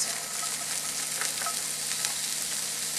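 Onions and carrots frying in oil, with a continuous bright sizzle and occasional crackles close by and no talking.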